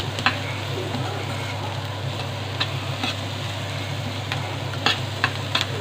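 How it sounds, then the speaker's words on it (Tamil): Onions sprinkled with a little salt sauté in a pan, giving a low, steady sizzle over a constant hum, with scattered light scrapes and taps of stirring. "ஸோ வெங்காயத்தை சேர்த்து நம்ம அப்படியே வதக்கிக்கலாம்."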